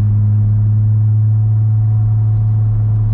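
A VR6-swapped Mk2 GTI with a modified 12v engine, cams and short gear ratios drones steadily while cruising, a loud, constant low hum with no voices over it.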